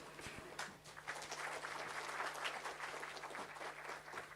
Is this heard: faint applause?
yes